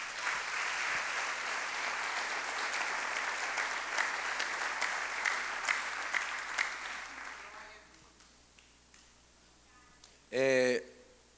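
Church congregation applauding together for several seconds, the clapping fading out, followed by quiet and a brief voice near the end.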